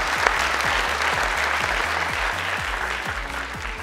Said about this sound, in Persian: هر دوی هم تشویق کنین